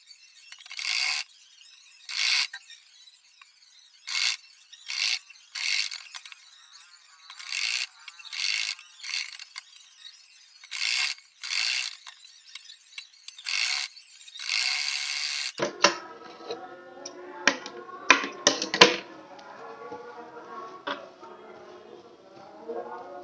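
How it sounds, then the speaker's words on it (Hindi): A sewing machine stitching the neck of a blouse runs in short, loud whirring bursts separated by brief pauses, then gives way to softer mechanical clicks and handling noises. "तो चलिए फिर हम स्टिच कर लेते हैं।"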